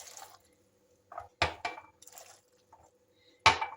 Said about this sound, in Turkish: 2-3 su bardağı su ekliyorum.